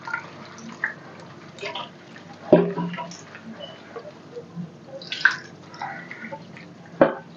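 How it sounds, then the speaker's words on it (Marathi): Chopped papdi beans and potato pieces are washed in water in a vessel, with soft sloshing and dripping, and a few sharper splashes and clinks at intervals. "आता त्याच्यामध्ये पाणी टाकून आपल्याला ही पापडी आणि बटाटा छान स्वच्छ धुवून घ्यायचा आहे"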